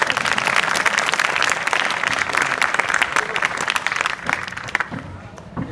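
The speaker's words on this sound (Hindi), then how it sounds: "वेरी गुड, ताली बजाओ इन सब बच्चों के लिए।" A room of students at an adolescence education program at a school breaks into lively, dense clapping for their classmates, sustained, then fading toward the end with some voices in the mix.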